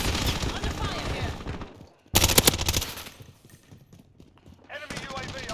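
Rapid automatic gunfire from Call of Duty Warzone rattles in a short, dense, loud burst, framed by quieter stretches of distant in-game shooting and noise.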